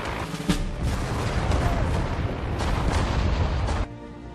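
Heavy booming launches of smoke grenades in Sudden Strike 4, a dense rumbling wall of bursts and battle noise that cuts off abruptly.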